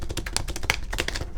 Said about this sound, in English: They're a little hard to shuffle